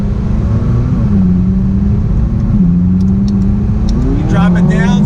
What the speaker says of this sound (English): having that engine behind you just popping away